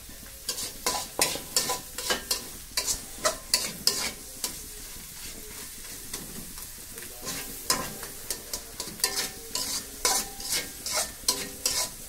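Noodles tossed with masala and coriander leaves in a pan, stirred in a steady run of scraping, clattering strokes over a light sizzle, close and fairly loud, with no voices.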